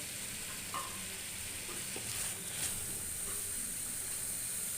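Potatoes hit hot, well-fried masala in a pan, giving a steady close sizzle with a few stirring scrapes over about five seconds, no voices.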